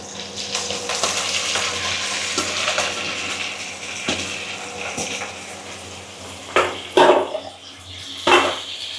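Fiddlehead fern hitting a hot pan with shrimp paste and chili, a steady loud sizzle with scraping stir strokes and a few sharper hisses near the end, no talking.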